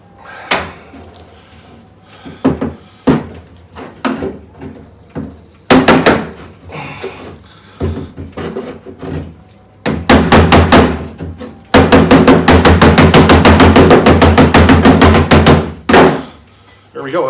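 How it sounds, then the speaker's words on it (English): Metal hammering with a hammer and dolly on a pickup truck's sheet-metal body panel, sharp ringing blows at close range, first scattered taps and then a fast, steady run of pounding strikes. "it's the pushing up and the pounding around that stretches the metal back up"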